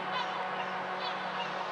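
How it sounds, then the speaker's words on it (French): Seagulls call outdoors, two or three honking cries spaced about a second apart, moderately near and clear over a soft, steady background hiss. "Et le chant des mouettes."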